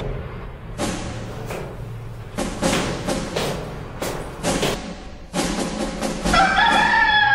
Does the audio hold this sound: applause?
no